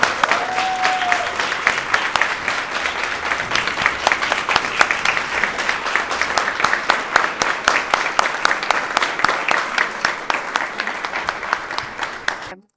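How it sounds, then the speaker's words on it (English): Audience at a Rotary Character Awards ceremony in Tucson applauds the award recipients, sustained dense clapping filling the room at steady loudness for the whole stretch before cutting off abruptly. "Let's give them a big round of applause."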